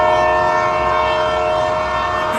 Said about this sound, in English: The train sounded its horns,